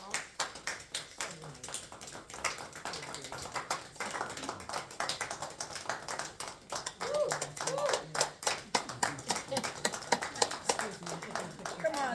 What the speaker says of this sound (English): I'd like to ask all today's readers to come up so we can get a round of applause for them